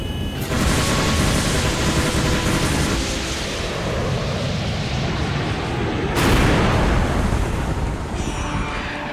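Missiles fired during an anime space battle against pirate fighters: a dense, continuous roar of blasts and booms, swelling into a fresh surge partway through, with no speech.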